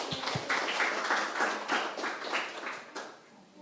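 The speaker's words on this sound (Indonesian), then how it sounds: "Beri tepuk tangan buat Tuhan." A church congregation applauding, a dense wash of clapping that stays steady and fairly loud throughout, with a few sharper individual claps standing out.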